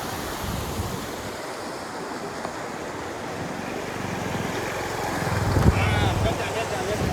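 A loud, continuous rush of a full-flowing river in Ladakh fills the scene, broad and roaring, with wind buffeting the microphone.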